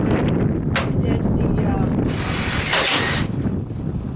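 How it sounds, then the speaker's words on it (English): Strong outdoor wind buffeting the microphone beside a DIY forge, a loud, continuous low rumble with gusty surges and a brief rushing swell midway, with faint speech underneath. "that the freaking wind doesn't just hit and rush in"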